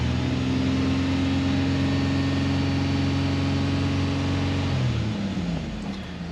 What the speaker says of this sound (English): So I'll rev the vehicle up here a little bit.